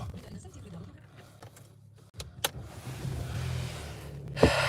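A used car imported from Germany with 169,000 km on it starts up midway, its engine catching after a short quiet stretch and settling into a steady nearby idle, with a sharp click near the end.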